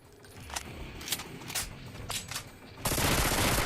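Gunfire in the Terminator Doom mod of the video game rings out as several sharp, loud shots, followed by a dense, continuous roaring burst of rapid automatic fire.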